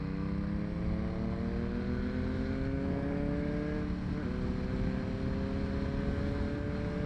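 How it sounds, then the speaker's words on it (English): A KTM motorbike with a loud, non-road-legal exhaust pulls away, its steady rasping engine drone shifting in pitch as it rides off, with no talking over it. "Listen to that bike. Probably not a road legal exhaust,"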